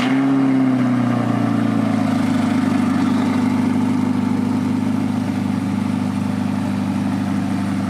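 Stock C8 Corvette V8 cold-starting on a cold engine, roaring loud and close with a steady high idle that drops slightly after the first second, no talking.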